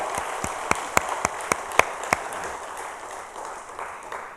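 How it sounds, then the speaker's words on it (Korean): Church congregation clapping in thanks during a sermon: a handful of sharp, separate claps in the first two seconds, then a soft, steady patter of applause that fades under room noise. "박수로 한번 감사합시다."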